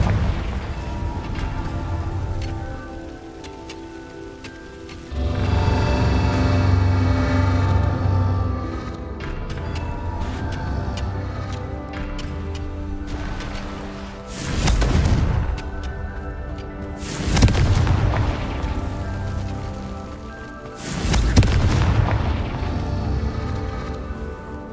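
Confringo blasting spells in Hogwarts Legacy go off as three or four loud, booming bursts spaced a few seconds apart, each rising sharply over a rumbling background score.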